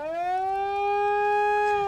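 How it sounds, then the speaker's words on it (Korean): A boat returning to port after an oyster harvest sounds its siren, one sustained, steady tonal wail held loud and alone for the whole stretch. "사이렌 소리 듣고 어머니들 나오신다"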